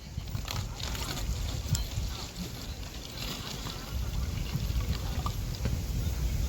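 Watery cow dung slurry pours into a bottle in a steady, unbroken gushing stream that lasts the whole stretch.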